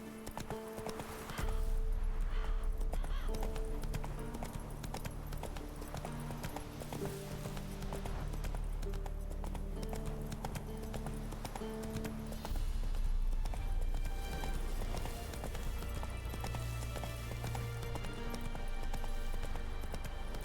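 Roach the horse's hooves clip-clopping steadily in The Witcher 3, a continuous trotting rhythm under game music, with occasional brief speech.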